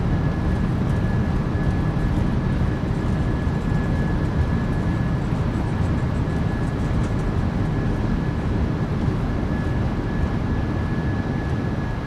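Steady broadband roar of a PMDG 737-800 airliner's thrust reversers and deceleration on the landing rollout in MSFS2024, a loud continuous rumble with a thin tone running through it, no talk.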